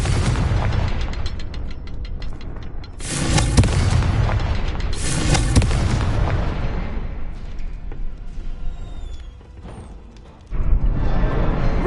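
Confringo blasting spells in Hogwarts Legacy go off as heavy booming explosions, two big blasts in the middle with crackling debris and rumbling in between, then another burst at the end.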